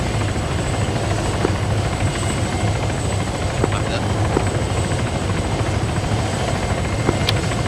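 Military transport helicopters run nearby during a Marine special operations exercise, a loud, continuous rotor and engine roar with a steady pulsing texture that fills the whole span.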